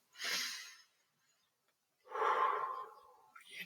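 A slow, deep breath drawn in and then let out, two long airy swells separated by a pause of silence, close and soft, with no talking.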